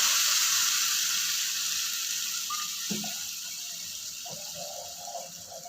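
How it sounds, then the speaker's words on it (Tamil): Steady hiss of water poured into a cooking pan while making plantain gravy, fairly close, with a few faint clinks and no talking. "கொஞ்சம் தண்ணி விட்டுக்கலாம்"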